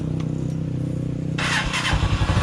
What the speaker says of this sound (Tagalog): So try naman natin ngayon paandarin kung ano yung andar niya no.